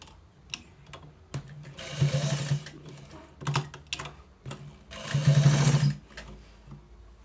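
A sewing machine stitches white trouser fabric in several short bursts of rapid mechanical whirring, separated by brief pauses and clicks, heard close and alone.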